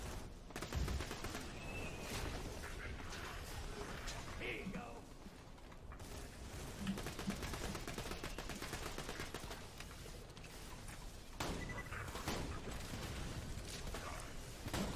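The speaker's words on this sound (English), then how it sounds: "Something is firing a lot of things." Rapid gunfire and bursts of weapon fire in the video game Borderlands 2, dense and continuous across the whole stretch with mechanical clatter, a voice talking over it at times.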